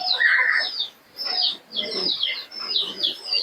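Giribaz pigeons coo and warble in repeated throaty bursts separated by short gaps, close by, with light chirping mixed in and no speech.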